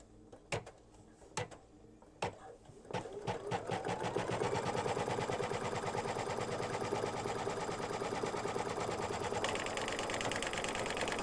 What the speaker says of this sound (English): And I'm going to stitch color stop number 2, which is going to tack down this batting.